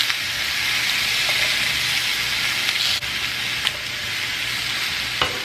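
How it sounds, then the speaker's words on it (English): Lemon quarters and chicken sizzling on a grill, a loud close continuous frying hiss broken by a few brief clicks and taps, with no one speaking. "I'm going to put the lemon on the grill"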